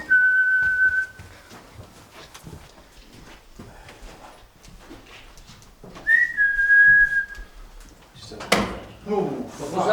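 Two clear, steady whistled tones ring out inside a haunted building, one near the start and another around the middle, separated by low murmuring voices and shuffling, with a loud thump near the end.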